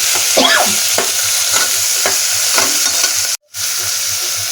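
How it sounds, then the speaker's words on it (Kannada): Onions and dried red chillies fry in a pan with a close, steady sizzle and repeated stirring scrapes, broken by a brief silent gap. "ಸೊ ಆ ಮೆಣಸಿನ್ಕಾಯಿ ಹಾಕ್ಕೊಂಡು ಸ್ವಲ್ಪ ತಿರುಗಿಸ್ಕೊಳ್ಳಿ"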